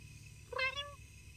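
A cat in The Sims 2 video game lets out a single short, clear meow over a low steady background hum, with no talk.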